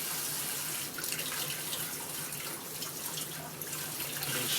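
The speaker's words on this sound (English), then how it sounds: "First thing we're going to do, of course, is wash these veggies up." Bok choy being washed under a running kitchen tap, a steady close rush of water with splashing and small irregular spatters as the leaves are handled.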